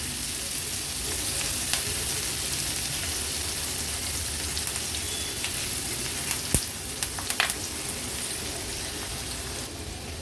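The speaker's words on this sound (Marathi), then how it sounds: "आता व्यवस्थित कढीपत्ता आणि कांदा तेलावर परतून घेऊया आणि गॅसची फ्लेम लो करून कांदा आपल्याला शिजवून घ्यायचा आहे" Curry leaves and onion sauté in oil over a low gas flame for an Agri-Koli style veg thali, giving a steady, dense sizzle throughout with a few brief clicks and scrapes near the end.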